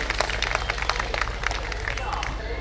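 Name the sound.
audience applause for the children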